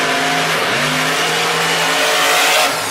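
A front-engine monster truck races in a Monster Jam arena event in Nashville, its engine roaring loud and close with rising revs under a broad crowd wash, the pitch climbing before easing near the end.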